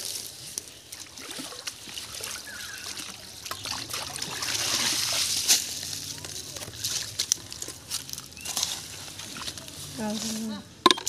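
Water from a bucket is poured into a bag beside a village fish pond, with intermittent trickling and sloshing under frequent nearby talk in Bengali.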